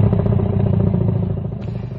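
Motorcycle engine rumbling steadily as it carries riders in a Bisaya radio drama scene, a close, loud, low drone with a faint rattling clatter and slight easing toward the end.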